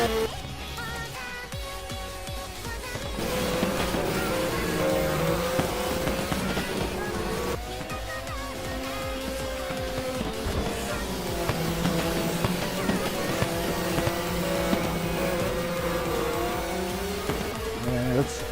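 Race cars in a Formula-style racing video game queue nose to tail through a chicane, their engines a continuous layered whine that rises and falls in pitch as they brake and accelerate.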